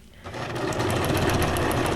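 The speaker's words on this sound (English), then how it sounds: "I like the sound of the sewing machine too." A sewing machine runs steadily and close by, its rapid mechanical whir starting after a brief quiet moment and holding an even, busy rhythm.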